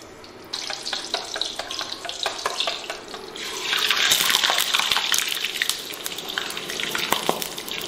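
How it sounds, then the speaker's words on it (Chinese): Oil is poured into a hot wok and sizzles, producing a continuous crackling, gushing hiss that swells in the middle and continues with scattered sharp pops. "锅里再倒些油"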